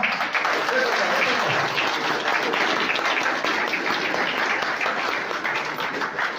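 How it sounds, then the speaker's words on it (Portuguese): A church congregation applauding during an anniversary service in São Bento do Sul, with thick continuous clapping filling the room, loud and close, easing off slightly toward the end. "vamos aplaudir Deus para as crianças"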